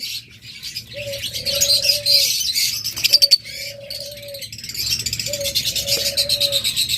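Budgerigar pairs, double factor opaline, yellow-wing opaline and split blue opaline, chirp and twitter in rapid, busy bursts alongside a few steady, clear whistled calls, close by with no talking.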